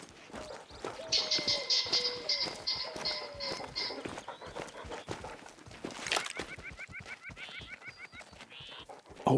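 Bird calls in the hunting video game The Hunter: Call of the Wild, with high, steady whistled notes repeating in short bursts over constant sniffing and rustling close by.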